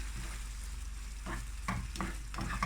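A tomato mixture seasoned with salt and black pepper is stirred in a pan, several close scraping strokes over a soft sizzle, no talking.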